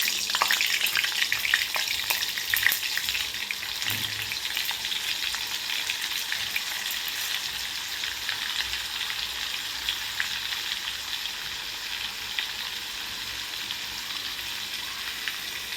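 Butter and oil heat together in a pan for paneer bhurji, giving a steady, crackling sizzle like light rain, close and even throughout, with a few faint utensil clinks near the start.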